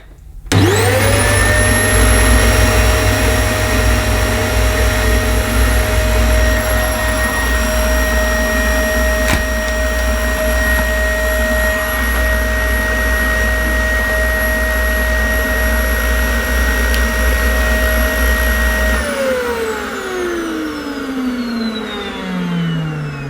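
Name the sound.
Dyson DC25 vacuum cleaner running, sounding clogged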